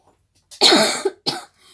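A person with a cold coughs in a few harsh, wet bursts, close up, followed by a shorter cough after a brief pause.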